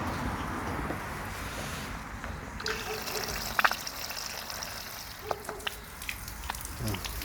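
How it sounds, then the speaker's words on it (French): Water runs steadily out of a hose while underfloor heating pipes are flushed, a continuous gushing trickle with a few faint clicks and knocks, and someone talks over it. "L'eau, elle sort, elle est claire."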